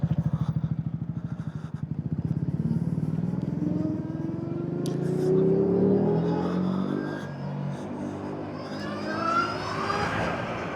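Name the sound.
motorcycle accelerating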